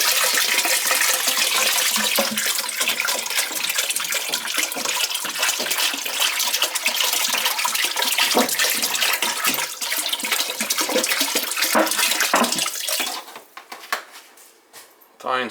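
Water pours into a pot holding pork and vegetables for a stew, a loud continuous rushing splash for most of the stretch, tapering off toward the end.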